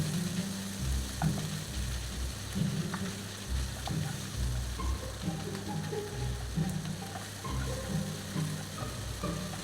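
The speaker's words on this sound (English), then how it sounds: "add the minced pork. Again, we fry one side" Minced pork frying in a pan, a loud continuous sizzle with rumbling crackle and intermittent scraping as the meat is pushed apart, no talking.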